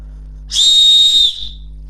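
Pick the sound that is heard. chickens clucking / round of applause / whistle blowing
whistle blowing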